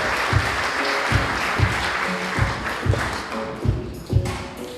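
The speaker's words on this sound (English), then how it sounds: "Let's give a warm round of applause for Dr." Applause at a Teacher of the Year celebration evening fills the hall over a steady, rhythmic thumping beat with evenly spaced low thuds, fairly loud and sustained.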